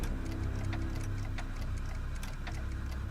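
Steady, regular ticking of a clock in the Back to the Future video game, close and continuous over a low humming background.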